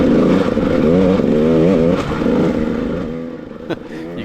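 Neighbours' snowmobiles pull up on snow with a loud, close, warbling engine roar that rises and falls through revs, then eases off toward the end.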